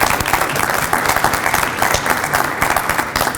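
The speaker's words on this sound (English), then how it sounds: "if we could give our panelists a round of applause for their advice" An audience at a mixer claps for a panel of speakers, a brief burst of dense, steady applause from a mid-sized crowd with no cheering.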